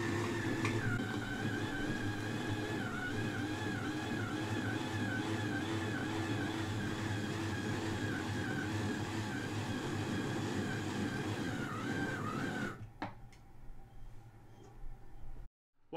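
A small DC motor driven through an Arduino Uno H-bridge runs counterclockwise with a steady, continuous whine and hum that holds for about twelve seconds, then cuts off abruptly, leaving near silence.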